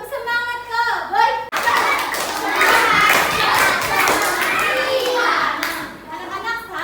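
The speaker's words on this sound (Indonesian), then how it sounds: "Alangkah baiknya kita bertepuk semangat Cowboy ya." Schoolchildren in a classroom perform the Cowboy spirit clap, a rhythmic chant with group clapping, loud and close, with their voices chanting over the claps throughout.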